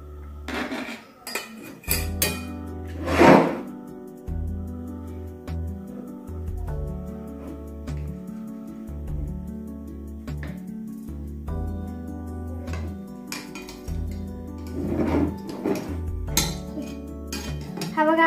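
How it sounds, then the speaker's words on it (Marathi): Metal utensils clink and scrape against a pan and plate while paper is peeled off a zebra cake and it is cut, with a few sharper clinks among softer handling sounds. "मी वॉटर पेपर काढते आणि तुम्हाला कट करून दाखवते."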